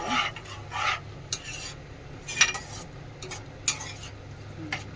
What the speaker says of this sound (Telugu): కలిపిస్తున్నాం ఒక 5 minutes